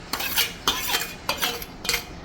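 A spoon scrapes and clinks rhythmically against a pan while stirring samosa filling with turmeric and garam masala, four close strokes in quick succession.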